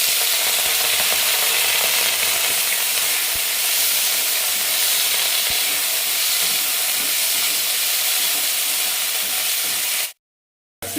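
Capsicum and mushrooms fry in a pan with a loud, steady sizzle and hiss that carries on without a break, then cuts off abruptly near the end.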